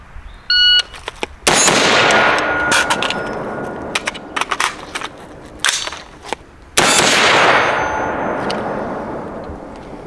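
Single sharp, loud rifle shots from an HM Defense 5.56 rifle fitted with a Mono Flash Forward ring out at a shooting range. Each crack decays in a long echo, and a timer beep sounds first.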